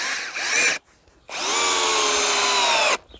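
A GTM DSI18/60BL brushless 18 V impact drill rated at 60 Nm bores into soil on its second speed with a fresh battery, giving two loud close whining motor runs, a short one then a longer one, separated by a brief pause.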